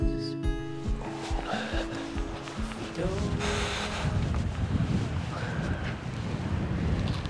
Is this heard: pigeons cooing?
no